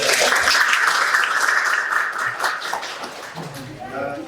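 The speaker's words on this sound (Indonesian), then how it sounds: "Tepuk tangan dulu." Students in a microteaching session clap their hands on cue, a lively burst of group applause that thins out over a few seconds, with voices and light laughter mixed in.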